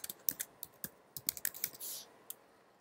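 Keystrokes clatter on a computer keyboard as text is typed in Photoshop: irregular, crisp clicks in quick bursts, with a longer key-held rustle near the end, close and fairly quiet with no voices.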